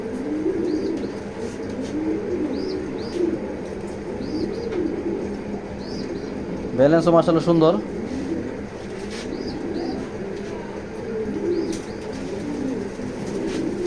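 Racer pigeons coo in low, repeated rolling calls close by, with someone speaking over them and a brief louder burst of sound midway.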